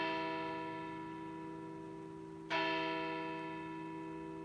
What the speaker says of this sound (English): So we have a church here. So every hour there will be a bell indicating that it's 1 hour.